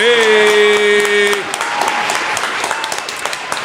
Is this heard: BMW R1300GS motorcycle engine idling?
no